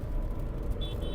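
A Hyundai Creta or Tata Nexon driving in second gear, with a steady low engine and road rumble close by, rain in the background and a faint high whine near the end.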